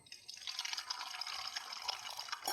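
Two beaten eggs poured into a hot pan with coconut oil give a steady, close hiss that starts after a brief quiet moment and holds at an even level, with no voices.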